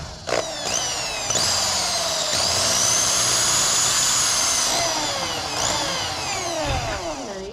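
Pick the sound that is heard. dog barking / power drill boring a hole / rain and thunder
power drill boring a hole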